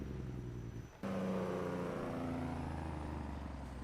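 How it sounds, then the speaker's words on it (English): A truck in Farming Simulator 22 has a low, rumbling engine that cuts out briefly, then kicks back in as a loud, steady Jake brake drone. It is close and continuous, with no talking. "the Jake brakes are really loud yet"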